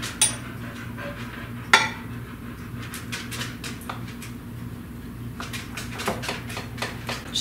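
A utensil stirring milk into lumpy icing, with scattered clicks and taps of metal against a bowl over a low steady kitchen hum, close but fairly quiet.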